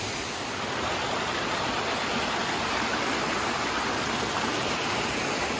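Waterfall in the Great Smoky Mountains of North Carolina, a steady, loud, close roar of falling water that fills the whole clip without pause.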